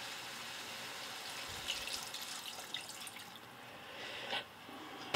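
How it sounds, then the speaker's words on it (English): Water from a measuring cup pours into a pot holding carrots for a pot roast, a soft steady splashing trickle close by, with a brief louder splash near the end and no talking. "now I'm going to put 1 cup of water"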